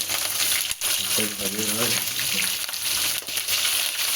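Dried red chillies and green chillies frying in hot oil for home-style pulihora, giving a steady close crackling sizzle throughout with light stirring clatter.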